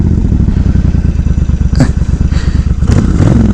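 A Suzuki Boulevard 1400cc cruiser motorcycle idles close by with its choke turned off, giving a loud, deep, lumpy throb of rapid regular pulses and a couple of brief clicks over the engine.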